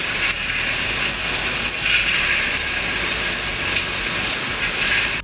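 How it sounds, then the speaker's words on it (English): Sweet potato fries sizzle in hot frying oil, a steady, dense hiss that stays loud and continuous throughout with no one speaking. "let's go ahead and just put our sweet potato fries in the oil"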